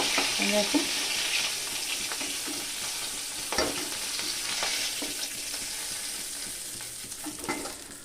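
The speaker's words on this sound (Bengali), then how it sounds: "বাকি মাছগুলোকে আমি ভেজে নেব" Rui fish pieces frying in hot oil in a pan give a steady, close sizzle with occasional stirring clatter and crackle, no talking.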